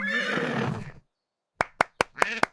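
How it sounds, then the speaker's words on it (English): A horse whinnies with a long, wavering neigh, then a short silence followed by several sharp claps or hoof knocks. "Horse says neigh."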